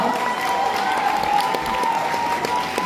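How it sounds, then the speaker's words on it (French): An audience applauds steadily for a cosplay contest winner at a fantasy and Japan convention, a dense continuous patter of clapping filling the hall for a few seconds. "Bravo, on l'applaudit très fort."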